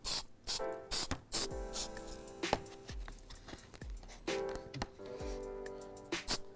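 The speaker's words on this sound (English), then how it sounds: "there's a nice spray." Repeated short hissing bursts of an aerosol can spraying adhesive onto a collage, in quick irregular puffs, close by, with faint mechanical clicks between them.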